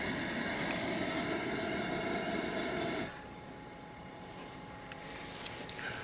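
A Coleman white gas camp stove burner roaring with a loud steady hiss, then abruptly cut off about halfway, leaving only a faint background hum and a few small ticks.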